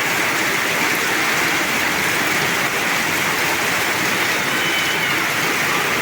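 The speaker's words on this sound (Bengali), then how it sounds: "এই বৃষ্টির শব্দ আপনাদের কাছে কেমন লাগতেছে একটু জানাবেন" Heavy rain pours steadily over Muradnagar, Comilla, near a pond, during a two-hour downpour: a dense, unbroken hiss that stays loud and even throughout, with no other sounds rising above it.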